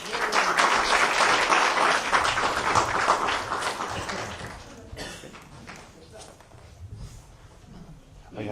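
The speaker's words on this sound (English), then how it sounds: "So give her a warm applause to the stage." An audience applauds as a speaker is welcomed to the stage, a loud burst of clapping that thins and fades after a few seconds into quieter room sounds and movement.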